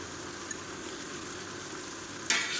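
Garlic paste, ground from 150 grams of garlic, sautéing in oil for mutton biryani gives a soft, even hiss of frying, with one brief clatter of a utensil near the end.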